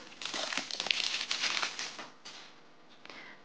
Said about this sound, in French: on enlève le scotch